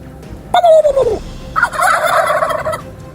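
A wild turkey gobbles in two loud, close bursts: a descending call, a short pause, then a rapid rattling gobble.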